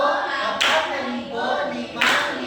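Schoolchildren in a classroom clap together for a classmate in two sharp, loud bursts while voices chant along in unison.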